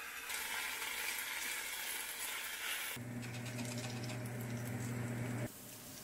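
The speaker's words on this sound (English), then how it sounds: "I know I should probably cook them half at a time and not fill up the pan so much" Shredded hash brown potatoes from Idaho spuds fry in an overfilled pan, giving a steady, soft sizzle throughout, with a lower humming tone joining for a few seconds before dropping away.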